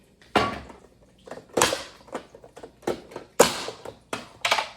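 A knife dicing potatoes on a cutting board for chicken bacon corn chowder, about eight sharp, separate chopping thuds at an uneven pace, close and clear with no talking.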